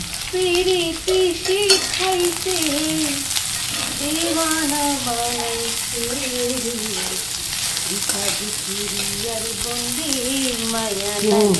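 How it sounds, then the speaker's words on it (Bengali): Dried Bombay duck fish (shutki) frying in oil in a pan, giving a steady, close sizzle with stirring that lasts throughout, partly under a melodic background tune. "এই তেলেই আমরা শুটকিগুলো ভাজবো।"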